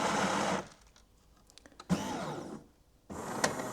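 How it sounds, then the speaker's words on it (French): A Jura E10 bean-to-cup coffee machine grinding beans for an espresso, heard as three loud, close bursts of harsh grinding whir separated by short quieter gaps. "Donc là, il est en train de broyer."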